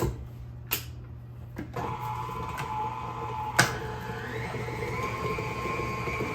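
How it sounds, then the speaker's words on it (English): An electric stand or hand mixer runs on medium speed beating plain cream cheese in a bowl, a steady mechanical whir with a low motor hum and occasional clicks and knocks of the beaters, close by with no talking. "So what I have here is my mixer on medium and just the cream cheese in it"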